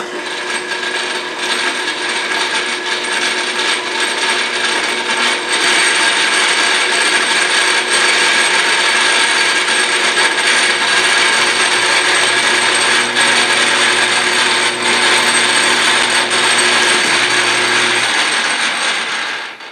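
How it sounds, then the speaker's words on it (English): A metal lathe turns parts for a Jeep bumper, giving a loud, continuous mechanical whir and grinding scrape that stays steady for about twenty seconds before stopping, with no talk. "So I decided we're going to turn them on the lathe instead"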